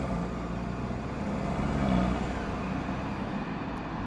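Inside a moving BMW 428i, steady engine intake noise and road roar hold at a constant, fairly quiet level, with a slight swell in the middle.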